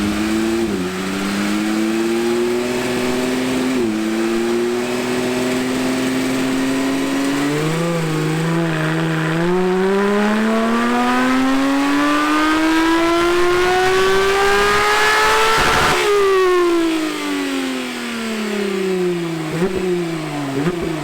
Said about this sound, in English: Turbo S's sound like sewing machines until you put an exhaust on them